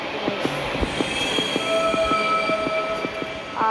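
A train in the video game Train Escape rolling along the track, a steady rhythmic clatter of wheels over rail joints beating roughly every quarter second with sustained metallic squeal and rumble, loud and close.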